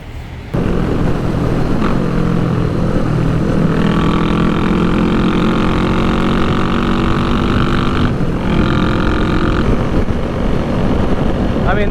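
Junkyard motorcycles, one with a zip-tied exhaust, ride on the road with a steady, loud engine drone that rises in pitch, plus wind rush.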